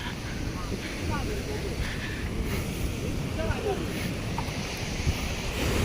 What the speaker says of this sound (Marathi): इकडे ना पाणी मारतं लाटाचं बघा